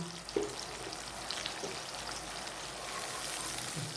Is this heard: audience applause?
no